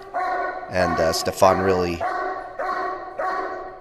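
A dog barks and yelps in several loud, close bursts during a dog-training workshop, with people talking over and between the barks.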